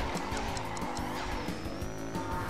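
Kart engine drone and squealing tire skids while drifting in the video game Crash Nitro Kart, steady and close with repeated short screeches over a constant buzzing motor and game music.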